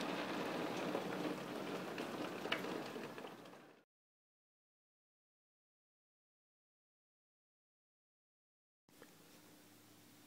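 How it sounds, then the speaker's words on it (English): Heavy rain falling during a spring thunderstorm in Huntsville, Alabama: a steady, dense outdoor hiss that cuts off abruptly partway through, then resumes more faintly after a gap of silence. "Raining again, thundering, lightning,"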